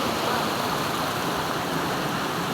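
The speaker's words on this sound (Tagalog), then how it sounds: "Yan, may bukal ng tubig." Spring water in Japan, beside a planted wasabi patch, runs in a steady, dense rushing stream close to the listener, loud and unbroken with no voices.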